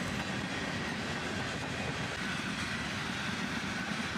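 A CSX freight manifest train rolls past close by, a steady, loud wash of wheel and rail noise with faint clickety-clack that stays even throughout.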